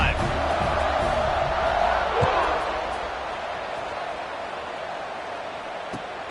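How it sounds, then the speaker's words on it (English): A packed stadium crowd roars in an NCAA college football game, a broad, steady wash of cheering that gradually softens, with a thump partway through. "this crowd is feeling themselves after that last drive"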